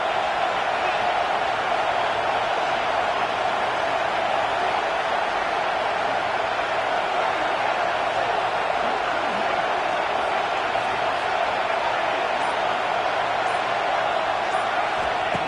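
A stadium crowd in a college football video game, Georgia versus Tennessee, a loud continuous roar of massed voices and noise that holds steady throughout, with no distinct talk over it.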